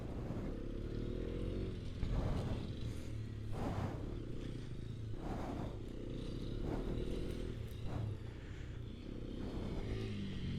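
A 2026 Hero Xpulse 210 adventure motorcycle rumbles steadily while ridden, its deep exhaust note running throughout with regular surging whooshes every second or so.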